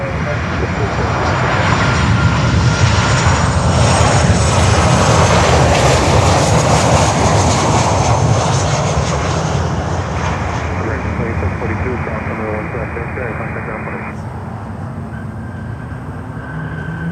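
Lufthansa airliner taxiing at Miami airport, its engines producing a loud, steady roar that swells and holds before easing slightly, with a person talking faintly throughout.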